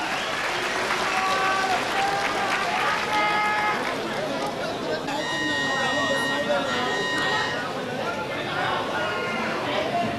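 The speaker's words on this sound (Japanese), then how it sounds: "どうぞ両選手に激励の拍手をお送りいただきたいと思います。" Audience at a kickboxing versus Muay Thai bout applauding both fighters before the final round, sustained dense clapping and crowd noise with a voice announcing over it.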